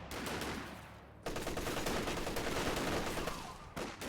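An MG34 machine gun fires in Company of Heroes 2, sounding as faint, continuous rattling bursts of distant gunfire over a dense battlefield din.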